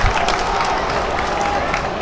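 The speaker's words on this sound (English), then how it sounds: "This crowd is absolutely loving it on our left." Basketball crowd in a high school gym roaring and cheering after a monster dunk, a dense, steady wash of cheers and applause that holds loud throughout.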